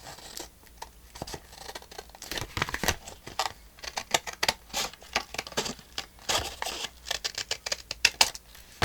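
Scissors cutting paper for a window pocket, producing a close, steady run of crisp snips and rustling paper with short pauses, no voices.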